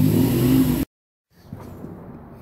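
A car engine revs loudly during aggressive driving, a strained, rising drone that cuts off abruptly, followed by fainter road rumble.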